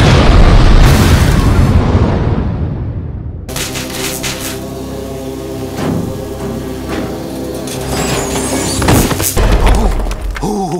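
A thrown flashbang grenade explodes in a cartoon scene. One loud, sharp blast opens and decays into a hissing roar, followed by a ringing tone with scattered bangs.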